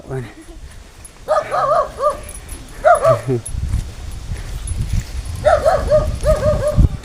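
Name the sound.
dog barking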